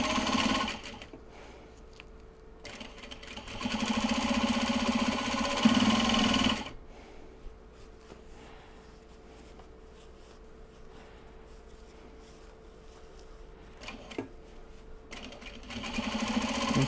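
A sewing machine stitches a large Japanese fabric box bag in two loud bursts of steady whirring, one lasting several seconds and another starting near the end, with quieter handling noise between them.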